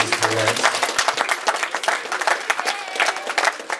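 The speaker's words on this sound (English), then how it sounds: "Huge round of applause for Mr. and Mrs. Parraz." Wedding reception guests break into steady, loud applause after the toasts, a dense crowd clapping continuously with a few voices mixed in.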